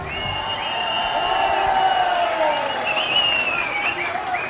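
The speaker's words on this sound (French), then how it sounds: "Il prend la parole sous les vives acclamations de ses partisans, venus nombreux" Supporters at a political campaign rally in Mauritius cheer and applaud a politician's arrival, sustained clapping and shouting filling the space under someone talking over it.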